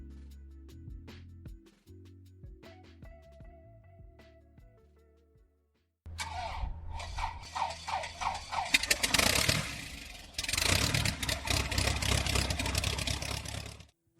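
Light aircraft engine cuts in partway and roars at full throttle for takeoff, a loud, steady, rising drone after a quieter stretch of faint ticks and hum.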